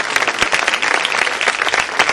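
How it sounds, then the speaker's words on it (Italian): A burst of steady applause from a crowd at a Miss Muretto Ponsacco 2009 event in Italy, dense clapping filling the whole moment with no one speaking. "Michele Fanicucci, un applauso"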